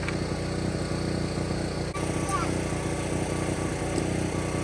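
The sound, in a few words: portable generator engine running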